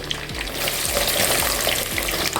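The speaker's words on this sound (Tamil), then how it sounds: "இந்த வெங்காயம் நல்லா வதங்கணும், வதங்கட்டும்." Steady, loud sizzling of small onions, garlic and curry leaves frying in hot oil for tomato kulambu, with occasional stirring scrapes, close by and continuous.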